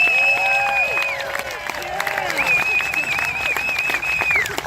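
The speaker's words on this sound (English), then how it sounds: "So big round of applause for your elected representative and senator." Audience at a Convention of States rally applauds and cheers steadily, with sharp whistles rising above the crowd noise throughout.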